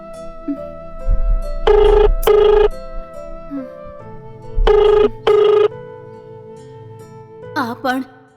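A telephone rings in two double bursts, separated by a pause, over soft background tones, with a short high chirp near the end.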